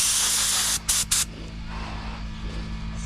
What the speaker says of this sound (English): You have to spray some of the clear out of the chamber